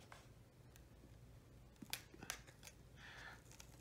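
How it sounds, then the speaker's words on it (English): Scissors snip through packaging during a Japanese Cardfight Vanguard card unboxing, giving a few sharp close cuts and crinkles over a quiet room background. "these are scissors that we deemed it suitable for my little brother to use"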